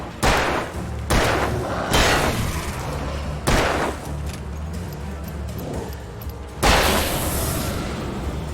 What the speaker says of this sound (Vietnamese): Cái này phải dùng súng.